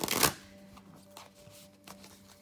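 A Lightworker Oracle card deck being shuffled: one close riffle burst at the start, then quieter card handling and soft taps.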